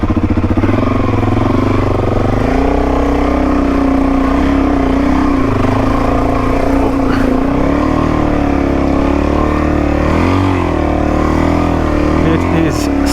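A Suzuki DRZ400E motorcycle revs hard while struggling to take off in soft sand, its loud engine droning continuously up close with rising and falling pitch throughout, and people talk over it.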